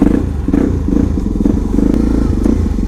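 Suzuki DRZ motorcycle ridden, a loud close engine drone with rhythmic low thumping and clattery texture throughout, steady and continuous with no clear talk.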